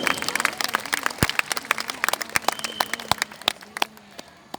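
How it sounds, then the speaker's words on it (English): Dense clapping from a school audience at a Delhi Public School speech in Hyderabad, sustained and lively throughout, with sharp individual claps standing out. "So a big round of applause for him."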